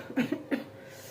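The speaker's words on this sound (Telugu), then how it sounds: "సో కాఫ్ వస్తుంది వాతావరణం అనేది చేంజ్ అయిపోతుంది" Two short coughs in quick succession, close and fairly soft, with quiet room tone afterward.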